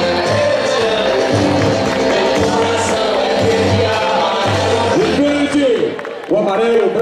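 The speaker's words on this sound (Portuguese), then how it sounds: "vamos dar uma salva de palmas" Steady applause from a crowd at a town agricultural expo opening in Bonfinópolis, dense clapping running continuously under loud music and a voice speaking toward the end.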